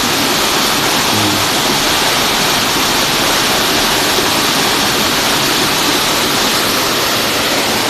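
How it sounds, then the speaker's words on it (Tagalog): Loud, steady rush of water pouring hard over rocks, a continuous roaring gush close by with no voices. "Yung lakas ng buga ng tubig, oh."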